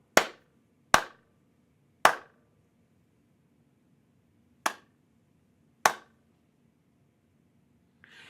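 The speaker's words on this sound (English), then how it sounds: "Once I begin to vary the clapping or beat pattern, it becomes impossible to tell when the next beat is going to happen." Five sharp hand claps ring out in an irregular, unpredictable rhythm, each crisp and close with a brief decay, separated by uneven gaps of silence.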